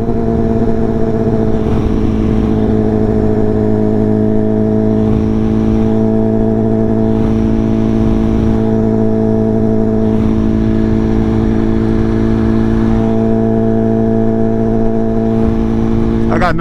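Liter-class sport bikes cruising on a highway at night, including a BMW S1000RR, Yamaha R1, Kawasaki ZX-10R and R6, produce a loud, steady engine drone with the wind roaring, heard continuously from up close on a riding bike.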